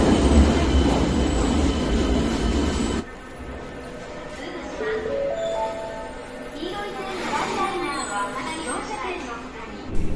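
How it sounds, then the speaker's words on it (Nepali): Rumbling interior of a moving train in Sendai, Japan, with a loud steady low roar easing after a few seconds, rising tonal whines and people talking throughout. "हामी चाहिँ ट्रेनभित्र चढिसकेका छौँ"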